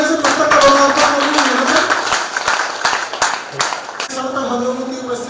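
An audience at a Hindi book launch and poetry gathering claps during the unveiling, steady hand claps running under a voice speaking through a sound system, the talk stopping briefly partway through.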